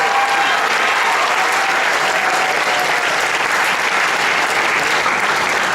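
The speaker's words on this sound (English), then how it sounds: "Ladies and gentlemen, a round of applause" A large audience claps loudly and continuously at a Shakespeare competition awards ceremony, a dense wash of applause with no pauses.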